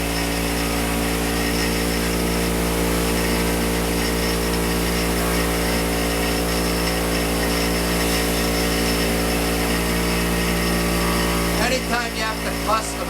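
A power tool polishing the edge of a custom-cut motorcycle windshield runs in a loud, steady, unbroken whine for about twelve seconds, then cuts off abruptly, leaving brief clatter.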